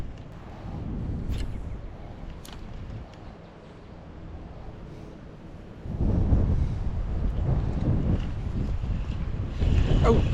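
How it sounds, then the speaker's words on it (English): Strong wind blowing across a microphone while fishing outdoors near water, low rumbling buffeting that eases for a few seconds, then surges back louder and sustained. "Man, that wind is getting ferocious."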